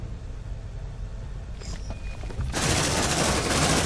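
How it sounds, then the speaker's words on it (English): Automated sentry gun in the video game Aliens Dark Descent opens fire, a dense, loud sustained burst of rapid gunfire starting abruptly partway through and continuing to the end, preceded by quieter ambient rumble and faint electronic tones. "Deploying sentry gun."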